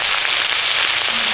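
Small shrimp hit a hot pan with onion and fry in a loud, steady, close sizzle that holds constant for the whole moment, with no talking.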